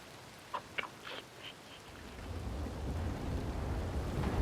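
A thunderstorm with rain: a few sharp crackles early on give way to a swelling, rumbling roar of thunder and steady rainfall that grows louder toward the end.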